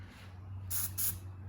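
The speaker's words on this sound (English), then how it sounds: "Spray there to make sure it's coming out smoothly." Spray can spraying onto sun-damaged window trim, two short hissing bursts close up, then the start of a third, over a low steady hum.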